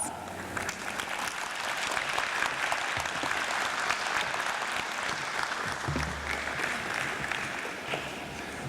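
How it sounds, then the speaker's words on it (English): An audience at the World Knowledge Forum gives a big round of applause: dense, sustained clapping from a large crowd in a hall, even in loudness from start to finish. "to the podium with a big round of applause"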